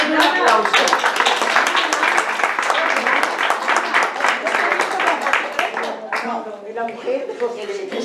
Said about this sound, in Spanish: Y ahora vamos a darle otro aplauso